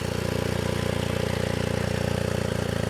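Steady idle from a 2023 BMW R 1250 RT motorcycle with a big stainless steel exhaust, an even, continuous low throb with a regular pulse and no voices over it.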